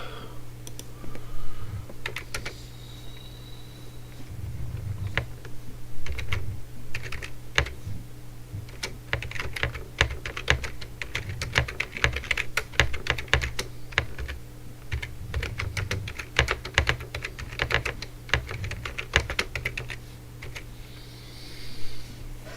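Steady, rapid typing on a computer keyboard during a live stream, dense clicking keystrokes running almost continuously, close and fairly loud over a low background hum.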